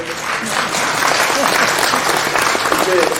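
An audience claps together at a government policy briefing in Jeonbuk, a broad, steady wash of applause filling the room at close range, with voices faintly mixed into the clapping.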